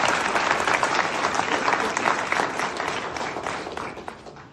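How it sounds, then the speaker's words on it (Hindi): A crowd at a party workers' meeting applauds in a dense burst of many hands, strongest at the start and slowly fading toward the end. "एक बार जोरदार तालियां"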